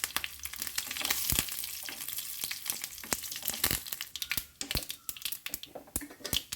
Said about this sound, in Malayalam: കടുക് പൊട്ടി വരുമ്പോൾ ഇതിലേക്ക് വറ്റൻമുളക് ഇട്ട് കൊടുക്കാം അതുപോലെ കുറച്ച് കറിവേപ്പില കൂടി ഇട്ട് കൊടുക്കാം